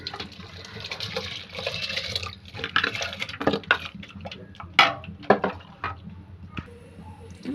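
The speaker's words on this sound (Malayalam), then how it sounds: "വെള്ളം തിളച്ചിട്ടുണ്ട്. നമ്മൾ അരി ഇടണം." Rice pours into boiling water spiced with cinnamon, cloves and cardamom for kuzhimanthi, giving a rushing, splashing pour with bubbling and irregular clinks and plops that fade toward the end.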